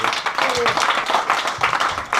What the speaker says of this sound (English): Round of applause for everyone who stood up.